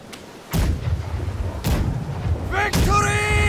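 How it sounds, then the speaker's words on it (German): Ship cannons in the naval battle game Blackwake fire in three heavy booming blasts, each with a deep rumbling tail, followed by a shouted voice near the end. "These cannons are fit to blow away anything!"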